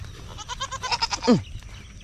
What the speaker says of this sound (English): We gotta find a way to feed these goats because they ain't stopping.